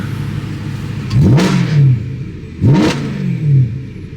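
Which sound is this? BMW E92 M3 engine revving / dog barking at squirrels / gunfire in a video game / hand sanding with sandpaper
BMW E92 M3 engine revving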